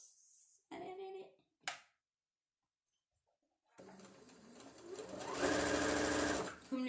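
A sewing machine topstitches slippery, fluid fabric for a snood, its motor whirring in short bursts that start and stop, then running a longer, steadier stretch close by, with no talk over it.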